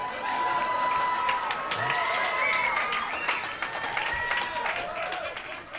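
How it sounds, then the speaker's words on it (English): An audience at a live comedy show breaks into applause and cheering partway through a stand-up set, a steady crowd wash lasting several seconds with voices mixed in. "Oh, second applause break."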